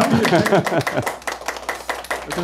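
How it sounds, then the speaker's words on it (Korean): Scattered applause from a small lecture audience thanking a professor, several sharp individual claps following a man's speech, close and uneven in rhythm. "큰 박수로 감사 인사드리면서"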